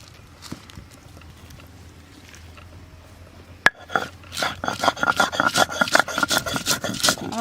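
Dried chilli, green chilli and cumin are ground by hand on a stone, giving a quick run of rhythmic rasping, scraping strokes that start faint and grow louder and more regular toward the end.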